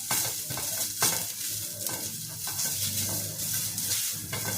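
Finely chopped onion sautéing in a pan for Maharashtrian misal, a continuous loud sizzle with intermittent stirring scrapes throughout, close up and with no talking.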